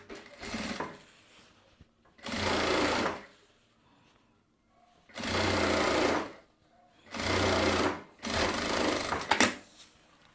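A sewing machine stitching fabric lining near a zipper's teeth runs in four or five loud, steady bursts of rapid mechanical whirring, with short quiet pauses between them.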